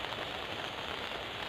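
Rain falls lightly on a village during a flood, a dense, steady hiss of drops on surfaces with no other sound.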